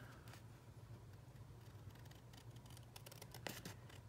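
Small craft snips trim the edge of a paper Christmas card with a few faint, quick crisp cuts close by in a quiet room.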